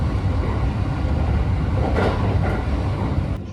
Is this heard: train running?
yes